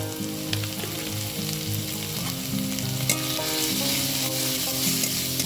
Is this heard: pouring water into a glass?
no